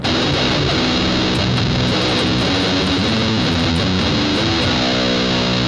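Electric guitar played through a Boss Metal Zone distortion pedal, looped into a Boss GX-100's send/return, gives a dense, saturated wall of loud distorted chords with sustained notes and little space between them.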